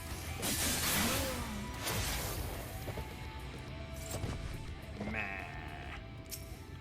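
Goat bleats in Final Fantasy XIV, a few wavering cries over a busy game soundscape with music and effects, one sharper bleat near the end.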